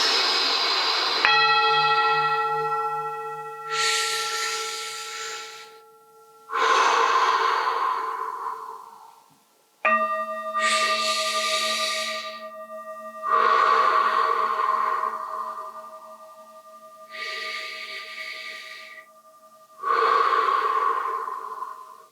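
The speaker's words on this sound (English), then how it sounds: "All we have to do is inhale and exhale with a bit of noise" Slow, noisy yoga breaths, each inhale and exhale a long audible rush of air, repeat several times during a beach yoga session, close and clear over faint sustained bell-like tones.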